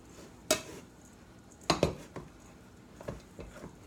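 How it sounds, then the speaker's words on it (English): A spoon stirs a cauliflower pizza crust mixture in a bowl, making a few scattered soft scrapes and clinks that are quiet and irregular, with no speech. "you simply just stir this together. Mix it together, mix it all up"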